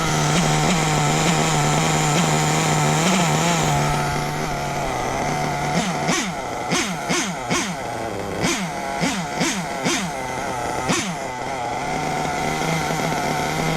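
Small carbureted engine idling steadily after idle and mixture adjustments, then revved in a series of sharp, repeated blips before settling back to a smooth idle, close and loud.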